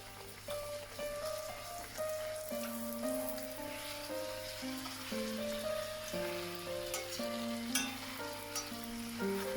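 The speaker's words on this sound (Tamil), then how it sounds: "இன்னொரு பால் ரொட்டி பொரிச்சு காட்டுறேன்" Paal rotti fries in hot oil while oil is spooned over it, a soft continuous sizzle with faint crackles beneath background instrumental music.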